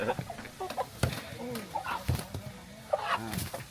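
A chicken clucks in short, repeated bursts nearby, with a few sharper calls mixed in against a quiet background.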